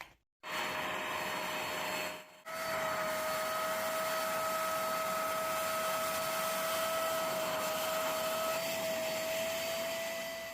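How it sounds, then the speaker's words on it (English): A Vax spot wash vacuum cleaning Ford Transit Mk7 van seats starts up after a brief stop, then runs as a steady, loud, close whine with a constant high tone for about eight seconds. "I've got my vac spot wash now, and I put some dirt shifter inside it"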